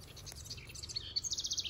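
Birds in garden trees chirping and calling in quick repeated high tweets, faint and somewhat distant, growing into a rapid series of calls toward the end with no talk.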